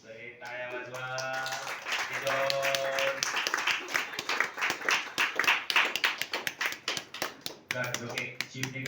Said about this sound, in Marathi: सगळे टाळ्या वाजवा